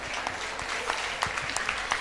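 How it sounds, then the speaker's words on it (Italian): Brief, moderately faint applause from a crowd at a local beauty pageant, clapping for a contestant, with scattered sharper claps over a low murmur. "Facciamo un applauso a Alison."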